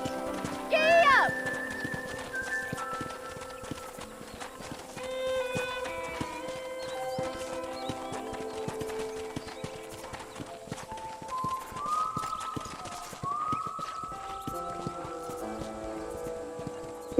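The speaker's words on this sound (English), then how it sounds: "I picked out a fine horse for you." Horse hooves clip-clop at an easy walking pace in the Western video game Red Dead Redemption, steady and fairly close under a bed of game music, with a brief whinny near the start and people talking throughout.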